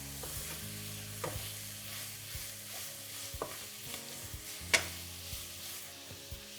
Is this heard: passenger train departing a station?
no